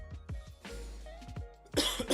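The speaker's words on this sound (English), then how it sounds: "Still gonna cough." A person coughs several times while painting miniatures, with quick low bursts followed by a louder, harsher cough at the end, close up and with no talking.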